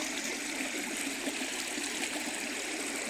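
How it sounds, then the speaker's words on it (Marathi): Irrigation water flows steadily through a tomato plot, a continuous rushing, trickling wash like a small stream, even and moderately loud with no talking. "टोमॅटोचं प्लॉट आहे आपल्या मित्राचा पाणी चाललं अजून मस्तपैकी"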